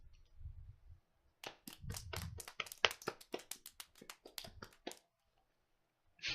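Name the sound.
applause in a video game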